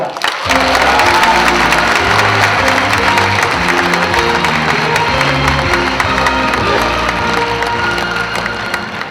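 A crowd at a city mayor's New Year welcome ceremony in Seo-gu breaks into loud, sustained applause with some cheering, continuous for several seconds without speech.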